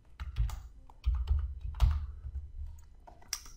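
Fingers type a name on a computer keyboard, a quick close run of clicking keystrokes with brief pauses, no voice over it.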